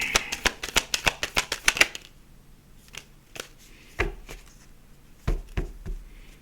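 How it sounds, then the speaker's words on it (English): Tarot cards riffled in a quick run of about a dozen crisp snaps close to the microphone, then a pause and a few scattered slaps as single cards are drawn and laid down. "Let's get another card out here."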